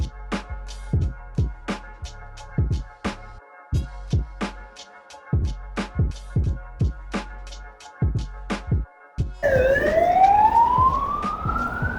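Emergency vehicle siren in an Odesa street. Sharp rhythmic clattering sounds first, then a rising wail that sweeps up loudly near the end.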